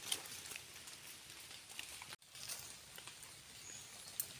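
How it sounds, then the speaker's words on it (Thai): Light rain drizzles in a forest during mushroom picking, a faint, steady, soft patter and hiss that continues throughout with one brief dropout. "ฝนตกรินเด้อพี่น้องเอ้ย"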